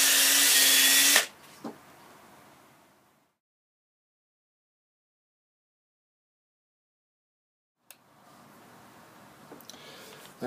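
A power sander whirs loudly on wood for about a second, then cuts out; silence follows before faint handling noises return.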